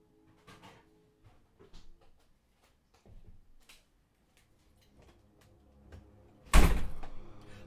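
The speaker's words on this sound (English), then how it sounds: "That was a door." A door bangs shut loudly near the end, preceded by scattered faint clicks and small knocks in an otherwise quiet indoor room.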